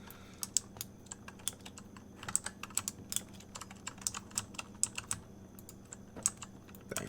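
Steady keyboard typing, close and clear, with irregular bursts of crisp key clicks over a quiet room.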